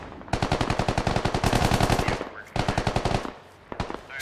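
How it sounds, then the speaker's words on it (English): Sustained automatic fire from a BMP armored vehicle in the military shooter game Squad, a fast, steady stream of loud close bursts, a short pause, then another burst and a few scattered shots. "Shots coming in from the BMP."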